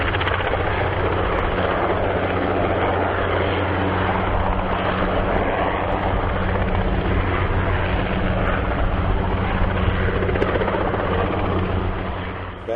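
Helicopter hoisting and ferrying tower sections during construction, a loud, continuous rotor and engine drone that stays steady and close for the whole stretch with no voices.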